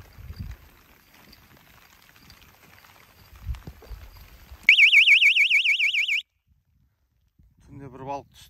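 A fishing bite alarm whistle at a riverside camp on the Nura sounds a loud, close, warbling electronic trill for about a second and a half. Faint background noise comes before it, and a short lower tone follows.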